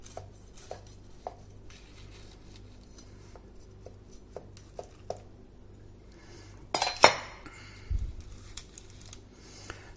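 A knife cutting a slice from a cooled homemade apple crumble cake, with light taps and scrapes on the plate and one louder clatter of cutlery partway through, close and otherwise quiet.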